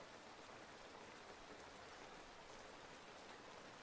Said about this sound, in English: oh, it's raining in the game. I thought I was hearing rain in the real world.